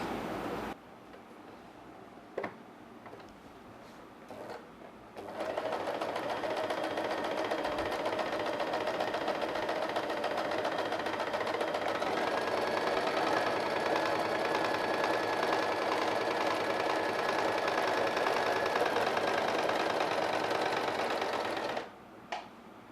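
An electric sewing machine runs a zigzag stitch, starting with a few slow clicks, then whirring steadily and evenly for over fifteen seconds before stopping, close and alone.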